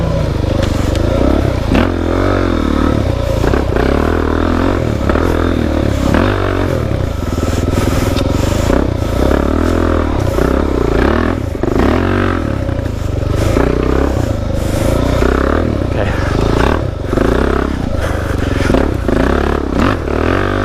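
A Suzuki DRZ dirt bike rips through a trail section, its engine droning loudly and steadily close by for about twenty seconds, with rattling and scraping from the rough ground.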